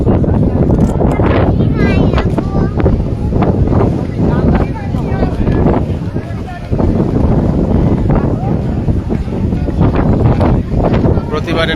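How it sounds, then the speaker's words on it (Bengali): Steady, loud wind buffets the microphone at an open-air zero point, rumbling and gusting continuously throughout with a few brief voices in the background. "বাতাস"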